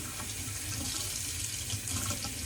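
Tap water runs steadily into a sink while a G-Shock GW-800 watch strap is washed, a continuous close hiss and splash with no talk over it.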